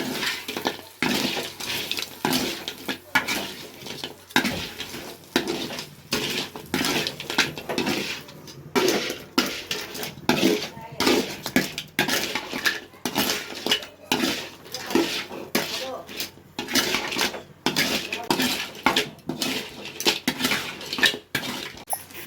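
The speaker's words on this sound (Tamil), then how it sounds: "இப்போ நண்டு வந்து பள்ளி போட்டுக்கலாம் நல்லா மசாலாலாம் அதில் ஏறுற வரைக்கும் நல்லா வதக்கிக்கலாம்" Field crab sautéing with masala in a pan, heard as continuous rhythmic scraping and clinking of a utensil against the metal pan, close and fairly loud.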